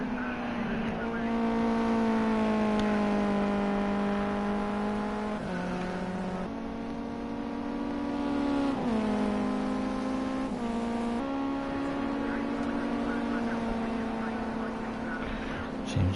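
Race cars at Donington Park National circuit, an engine note holding steady and shifting pitch as cars lap, continuous and fairly loud throughout with no one speaking.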